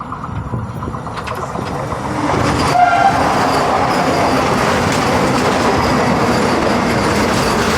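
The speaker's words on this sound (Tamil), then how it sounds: "ஊத்துக்குழி ஸ்டேஷன் வாங்கி அப்படியே டிபாச்சர் ஆகிட்டு இருக்குங்க" A train rumbles and clatters steadily nearby, wheels clacking on the rails as it pulls away from Oothukuli station, loud and continuous with no voices.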